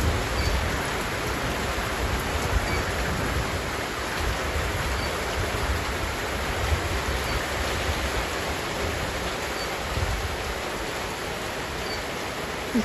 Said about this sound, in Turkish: Şöyle bir açılıyor, bir yağıyor.